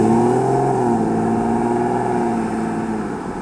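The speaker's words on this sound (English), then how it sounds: "a lovely exhaust burble" A steady, low engine burble from the exhaust of a 2024 Dodge Hornet R/T, continuous and fairly loud, easing slightly toward the end with no voices.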